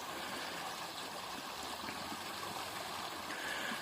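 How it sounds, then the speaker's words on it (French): A small stream flowing steadily, a continuous soft rush and trickle of water heard alone at low level, with no voices over it. "Regardez ce petit ruisseau."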